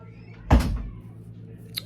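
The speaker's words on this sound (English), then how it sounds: "Close my door, please." A door is pushed shut with a single close thud and brief rattle, near and fairly loud, followed by a faint tick in a quiet room.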